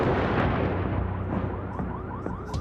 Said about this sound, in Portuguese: Os disparos são ouvidos de longe.